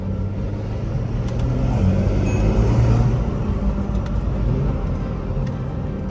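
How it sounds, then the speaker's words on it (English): A BMW 340i engine runs with a deep, steady rumble that swells briefly in the middle, with a few faint pops crackling over the drone. "Got a little bit of pops. Man. Oh, we got a driving 340i."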